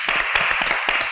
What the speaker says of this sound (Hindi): तो इनके लिए तो तालियां होनी चाहिए।